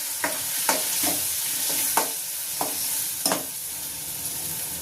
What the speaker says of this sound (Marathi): आता हे वाटलेले डाळ आणि हिरवी मिरची लसूण ते परतून घेते